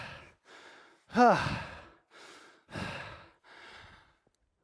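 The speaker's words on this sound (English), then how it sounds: "you can hear me breathing non-stop, I'm sure." Heavy sighing breaths and gasps from an instructor between exercises in a gym circuits workout class, a series of loud exhalations in bursts with a short spoken word mixed in.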